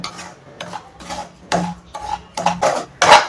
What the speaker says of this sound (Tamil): இப்போ இந்த ரவையை வந்து நல்லா வறுத்து விட்டுக்கோங்க